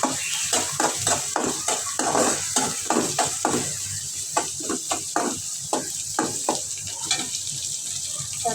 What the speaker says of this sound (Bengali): আদা রসুন দিয়ে দিই, পেঁয়াজটা ভাজতে নিলাম, দিয়ে দিলাম আদা।